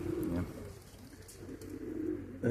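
Pigeons in a loft coo softly and continuously, a low rolling murmur of overlapping calls heard from close by at a quiet level.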